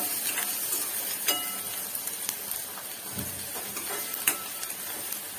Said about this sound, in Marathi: हा कांदा जास्त फ्राय नाही करायचा आहे आपल्याला भाजीमध्ये याचा कच्चेपणा थोडा लागला पाहिजे याला छान फ्राय करून घेऊया